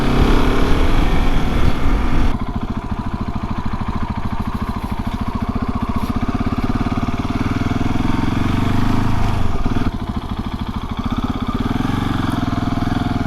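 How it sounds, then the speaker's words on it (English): KTM 690 Enduro R single-cylinder motorcycle ridden on country lanes, a loud close engine drone with a steady rapid pulse, briefly easing in tone around a shift before settling back into a constant throaty run. "riding around on motorcycles that we could never afford in those days"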